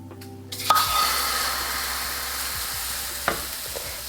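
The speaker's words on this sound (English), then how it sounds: "I'm going to add just a little bit of olive oil." Olive oil and butter hit a hot frying pan and burst into a loud, even sizzle that holds steady, with a couple of faint utensil taps near the end.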